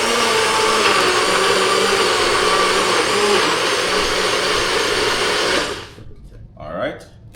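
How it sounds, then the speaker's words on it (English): A blender roars steadily at close range for several seconds while blending ingredients for Jamaican oxtail, then shuts off abruptly, leaving faint sounds afterward. "Plug in the blender and start up the process."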